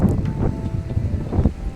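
Blustery wind at the seaside on a day with waves, a steady broadband rush with gusty swells and low rumbling buffets across the microphone, fairly loud and continuous.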